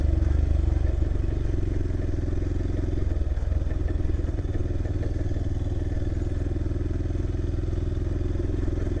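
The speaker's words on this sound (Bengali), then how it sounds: "বাইক গেছে তো আস্তে আস্তে যেতে হবে, অফরোড আছে একটু সাবধানে" Motorcycle rolling slowly along a rough off-road track, its engine a steady low thrum with faint rattling and clatter, close and continuous with no strong revving.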